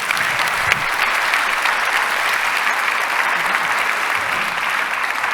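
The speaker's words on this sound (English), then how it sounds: "join me in a round of applause for our wonderful speakers" A conference audience gives sustained applause for a panel of speakers after a global health conversation, a dense, steady wash of clapping from a large crowd that holds evenly throughout.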